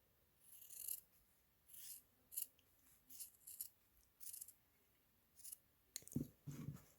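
Scissors snipping through fabric during embellishment crafting, a quiet, close series of short crisp cuts in irregular bursts, about eight snips, with no talk.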